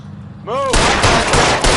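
Gunfire erupts in the video game L.A. Noire after a short vocal sound, a loud dense burst of rapid shots that continues steadily to the end.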